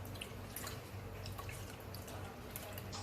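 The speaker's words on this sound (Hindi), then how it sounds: "अब हल्के हल्के हाथ से इसको हिलाते जाएं और बीच में हल्की हल्की कड़ी इसमें लस्सी इसमें डालते जाएं" Lassi trickles into kadhi as it is gently stirred, a faint, steady wet dripping and sloshing heard close up and alone.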